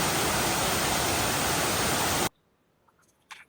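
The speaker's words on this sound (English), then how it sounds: "Yeah, it's quite beautiful, this waterfall" A small waterfall at Chiang Dao in northern Thailand roars as steady, dense rushing water up close, then cuts off abruptly to near silence with a couple of faint clicks.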